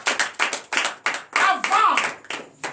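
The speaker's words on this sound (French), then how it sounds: "Donnez l'acclamation" Congregation at a Friday night deliverance and prophecy church service clapping in bursts and acclaiming, with loud voices shouting over the rhythmic hand claps, close and energetic.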